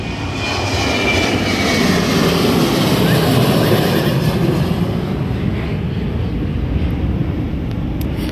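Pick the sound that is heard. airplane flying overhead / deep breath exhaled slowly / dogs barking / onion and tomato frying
airplane flying overhead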